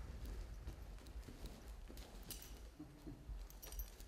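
A horse moving during a training session, with faint, soft hoof clip-clops and light jingling of tack spread unevenly over a quiet, noisy background.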